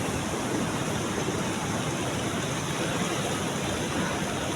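Floodwater from heavy rain pours over a bridge in a continuous, dense rushing roar, even and unbroken throughout, with no speech on top.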